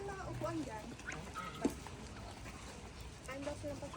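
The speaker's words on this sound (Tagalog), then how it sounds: "Dami-daming duck." Several ducks quack close by in short, nasal bursts, mixed with voices of people talking and calling out over a busy outdoor background.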